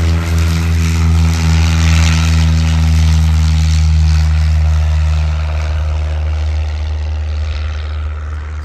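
A front-propeller airplane taking off, giving a loud, steady engine and propeller drone that holds close and strong throughout, then thins slightly near the end, with no talking.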